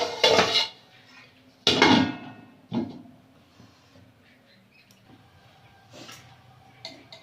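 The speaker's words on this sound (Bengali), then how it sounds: "ঢাকনাটা খুলে নেব" A metal pot lid is handled during cooking: two loud clattering clanks at the start, then softer knocks and taps spread over the following seconds in a quiet kitchen.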